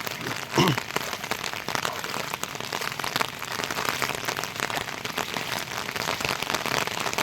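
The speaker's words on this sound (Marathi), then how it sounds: "पावसाने परत जोर धरला आहे" Heavy monsoon rain in Konkan pours continuously, a thick even hiss with scattered sharper drops striking nearby surfaces; no one speaks.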